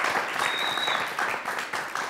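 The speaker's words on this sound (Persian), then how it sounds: "تشویق بکنین" An audience applauds contestants on a televised game show, a steady wash of clapping from a studio crowd that fades slightly toward the end.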